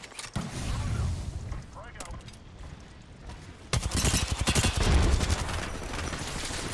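Volt SMG fire in Apex Legends comes as rapid, dense bursts: scattered shots and mechanical clatter early on, then a loud sustained stream of automatic fire from midway to the end.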